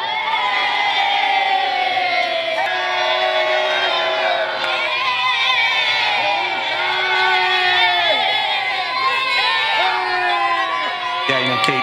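Crowd at Rakia Mission Control in Tel Aviv cheering and whooping continuously, dense overlapping voices shouting and calling out, loud and close throughout.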